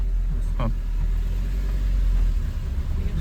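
A privately hired car drives along, its engine giving a steady low rumble and road noise close by, continuous and fairly loud, with a brief voice-like sound near the start.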